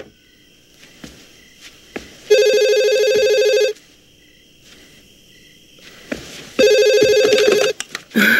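An old landline telephone in the 1996 film Scream rings twice, each electronic trill lasting over a second and loud and close, separated by a quiet pause with faint room sounds.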